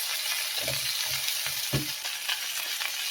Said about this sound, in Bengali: ঢেঁড়সটা ভাজা হতে থাকো